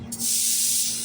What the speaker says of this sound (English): give it a spritz